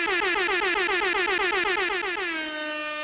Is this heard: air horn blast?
yes